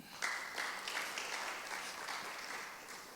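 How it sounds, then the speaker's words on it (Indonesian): A church congregation claps in applause during a Sunday worship service, a broad, steady patter of many hands that holds at moderate volume throughout, slightly distant in a reverberant hall. "yang setuju tepuk tangan bagi Tuhan"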